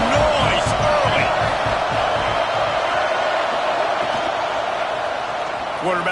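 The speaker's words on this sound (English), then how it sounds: "This crowd bringing the energy and noise early." Stadium crowd noise from a college football video game forms a loud, constant roar throughout, with scattered cheers and whoops rising out of it.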